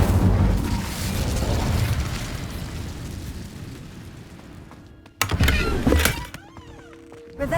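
An Incendio fire spell cast in Hogwarts Legacy bursts out as a sudden loud whoosh and crackle, following a long stretch of rumbling ambience, with a second flare-up soon after.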